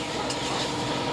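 Spice masala with a little added water is stirred and sautéed in a pan for a chana dal bora curry, giving a soft, continuous sizzle and scraping stir, up close and brief.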